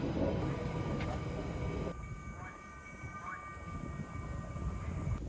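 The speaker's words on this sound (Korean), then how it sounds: "걷다 보면 옆으로 지나가는 해변 열차들을 보게 돼요." Seaside beach train rolling past a coastal trekking path, a steady low rumble of wheels on rails with faint squeals, heard at moderate distance under outdoor ambience and some background voices.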